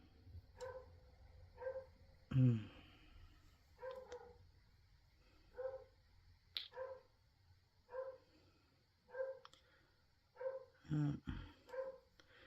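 A dog barks repeatedly indoors in a craft workspace, short sharp barks arriving in irregular bursts every second or two, moderately near, with a few soft clicks and thumps in between.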